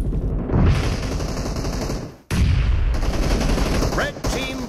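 Rapid bursts of gunfire crackle in a PUBG match, dense repeated shots rattling loudly with a brief gap midway and sharp metallic reload-like clicks near the end.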